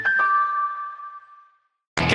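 A radio station's two-tone ding-dong chime on KFI AM 640 rings out loud and clear, its bright tones decaying over about a second and a half before a brief silence, then a voice starts talking.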